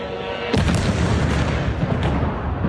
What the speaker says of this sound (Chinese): 先是有无人机在附近盘旋， 下一秒就能听见猛烈爆炸